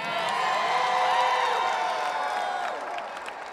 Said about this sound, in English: you all are going to have to clap a lot louder than that for Art Hayward